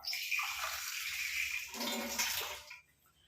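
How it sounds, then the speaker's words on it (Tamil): A tumbler of water is poured into an iron kadai on a stove, giving a continuous close splashing pour that ends with a short trickle and quiet. "இதில் வந்து நம்ம ஒரு டம்ளர் அளவுக்கு தண்ணி சேர்த்துக்கலாம்"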